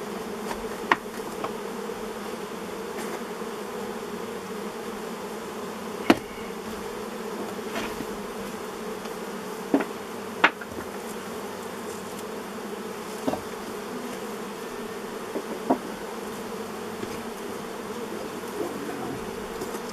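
Bees hum in a steady, dense drone inside an old beehive opened after more than thirty years, with faint scattered knocks and taps from handling the hive frames; no one speaks.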